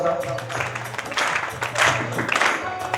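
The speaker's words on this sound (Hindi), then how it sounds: "तालियां बजाओ" Audience clapping at a bhajan devotional singing event: dense, steady applause from a crowd fills the whole stretch, holding at an even loudness throughout.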